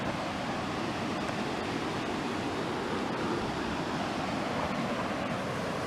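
The Linville River in Linville Gorge, North Carolina, flows beside a hiking trail, a steady, broad rushing of water that stays even and fairly loud throughout with no voices.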